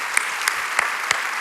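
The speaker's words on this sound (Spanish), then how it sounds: "Damos un fuerte aplauso al Señor bondadoso," Church congregation applauding, with a dense wash of clapping from many hands and a few louder individual claps standing out, loud and close.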